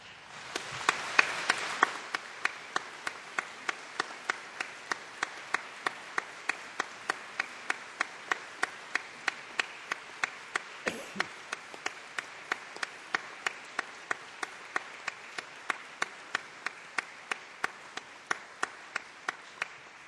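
Audience applause at a Cardiff University nursing and midwifery graduation ceremony in 2005, heard as steady, evenly spaced claps, roughly two per second, carrying on for about twenty seconds over a soft crowd wash.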